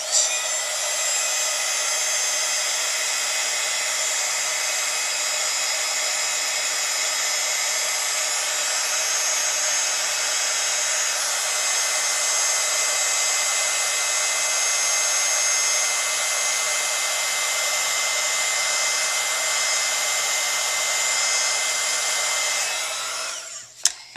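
A heat gun blows hot air steadily to set embossing powder, a loud, even whooshing roar that runs unbroken for about twenty-four seconds and cuts off abruptly at the end.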